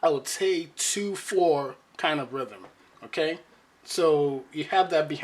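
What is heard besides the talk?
No everyday noise stands out behind the speech.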